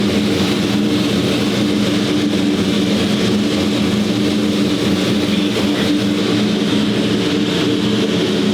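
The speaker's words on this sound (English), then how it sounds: "It's misfiring then, hey?" A car engine misfiring on one cylinder idles loudly and close up, a constant low rumble with an uneven, stumbling beat running through it.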